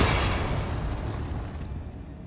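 The Confringo explosive spell from Hogwarts Legacy goes off as a single close, loud blast that fades into a rumbling decay over a couple of seconds.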